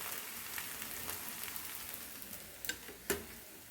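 A masala roti of soya beans, oats and fenugreek leaves fries on medium flame, giving a soft steady sizzle close by, with a few small pops and crackles near the end.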